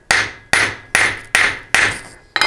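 A hammer peens a scythe blade in six sharp, metallic strikes at a steady rhythm of about two per second. The blows are close and loud, each decaying briefly before the next, with no talk.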